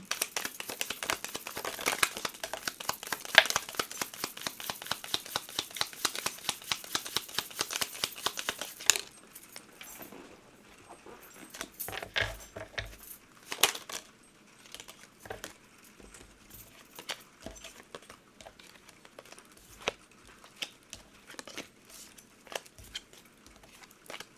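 Tarot message cards being shuffled and handled, a rapid run of soft crisp card flicks and taps up close, then sparser clicks and rustles at lower level.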